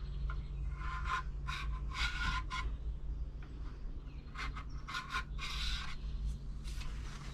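Thick varnish is scraped off a sailboat's wooden trim in short rasping strokes that come in quick bursts with brief pauses between, close up over a low steady hum.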